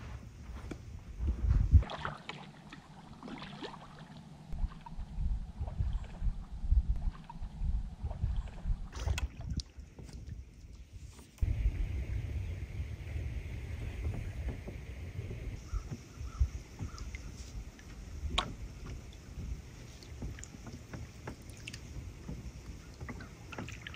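Canoe paddle strokes and water sloshing around the small boat, with steady low rumble and occasional splashes, close to the microphone and partly masked by wind.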